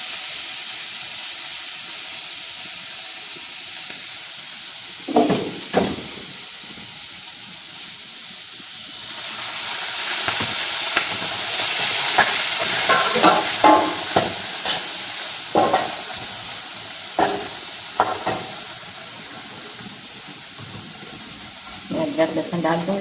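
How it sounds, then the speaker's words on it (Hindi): Chickpeas (chole) frying in a pan with browned onions for chola pulao, with a steady sizzle, scattered stirring clatter and utensil knocks, and a steamier hiss that swells midway. "ये देखें प्याज ब्राउन हो गई है, इसमें छोले डाल देती हूँ।"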